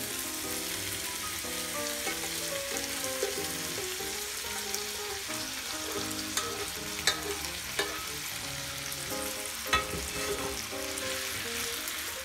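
Boiled spinach and vegetables are added to a frying pan of garlic for a Bangladeshi spinach curry, a steady hiss of frying running throughout with a few light clicks of a spoon, while faint background music plays.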